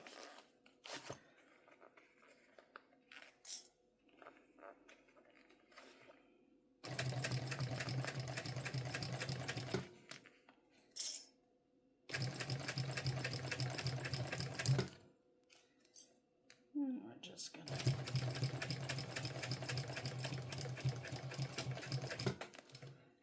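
A sewing machine stitches a bum bag in three long, loud bursts of rapid mechanical whirring and needle clatter, separated by quiet pauses with light handling of fabric.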